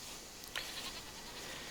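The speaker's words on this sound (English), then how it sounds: "A herd of goats." A single short bleat from a feral goat in theHunter Classic cuts briefly through a steady wash of outdoor ambience.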